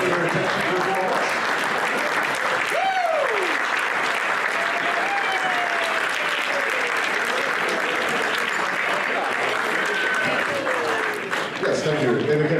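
Wedding guests applauding a couple at a reception, a sustained loud round of clapping filling the room with a few voices and cheers mixed in.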